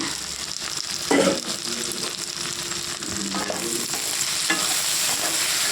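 Okra curry with chili powder frying in a pan, a close, loud, continuous sizzle with a spoon stirring and scraping through it at a few points.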